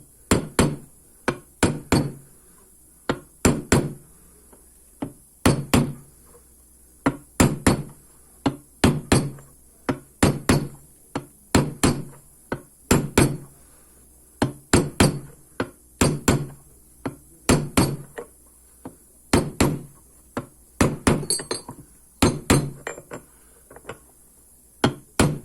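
Hammer driving a crank bearing into place during engine assembly, a long run of sharp, close metallic strikes in uneven bursts, their ringing pitch shifting as the bearing seats toward the bottom.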